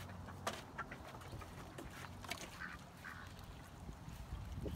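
Ducks quack quietly at a short distance, a few scattered calls over soft outdoor background noise.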